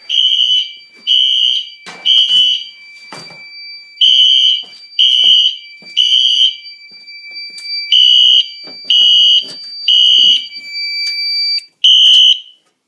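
A fire alarm system test blares in repeated loud electronic beeping bursts, about a second each with short gaps, sounding on and on with no talking.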